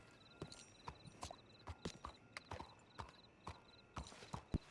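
A horse walks in a video game, its hooves clip-clopping in an uneven, steady rhythm at moderate distance, with no talk.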